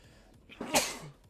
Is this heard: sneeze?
yes